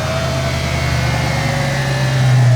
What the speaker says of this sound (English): Must be the supercharger in there making the noise.